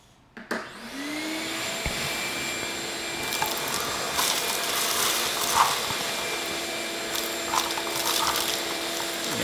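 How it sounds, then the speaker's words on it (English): A vacuum cleaner starts with a short thump and then runs at a steady, close, high whine as it sucks debris out of a burnt Ferrari 360 engine, with faint scraping and rattling of bits being pulled in. "Hit up the vacuum again."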